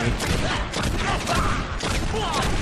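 Gunfire in the Western shooter Red Dead Revolver, a dense, continuous rattle of overlapping shots filling the whole stretch, with faint talk mixed in.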